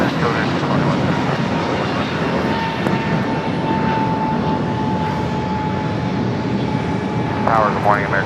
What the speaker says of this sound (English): We got our first departure heading to Miami. Taking off from runway 25 right.